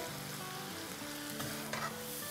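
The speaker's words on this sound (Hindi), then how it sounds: "चिकन को हिलाएंगे" Chicken being stirred as it fries in a pot for a large batch of chow mein, a steady close sizzle with scraping spoon strokes throughout, no talking.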